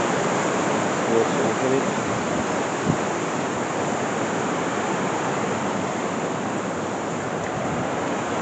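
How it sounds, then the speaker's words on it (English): River rapids in Wasdale Valley, Cumbria rush in a steady broadband roar of water, loud and continuous, with someone speaking briefly over it. "I've got a little bit of a rapid section just over there."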